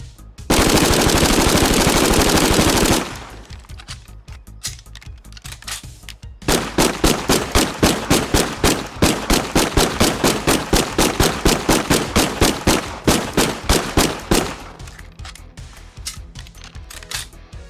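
Ceremonial M1A1 Thompson submachine gun firing in the video game State of Decay 2: a loud sustained burst, a pause, then a long rapid stream of evenly spaced shots that ends in quieter trailing noise; no talking.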